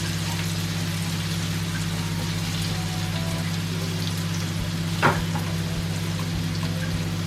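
Onion sizzling in oil in a frying pan while making a meat pie filling, heard as a steady, even crackling hiss over a low constant hum, with one brief sharper pop midway.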